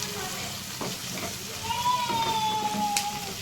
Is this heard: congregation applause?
no